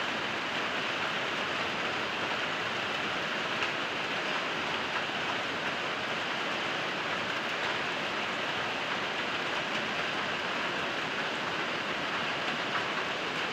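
Steady morning rain falling on a farm homestead with banana plants, an even, dense hiss that holds at the same level throughout with no voices.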